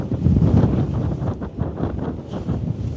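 Steady rumbling wind buffets the microphone, louder at first and then easing into a softer, gusting roar with no voices.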